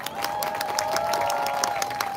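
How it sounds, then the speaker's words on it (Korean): A crowd at a union workers' rally claps vigorously with some cheering mixed in, a steady wash of applause with occasional louder accents and a faint tonal sound running underneath. "다시 한번 힘찬 박수 부탁드립니다"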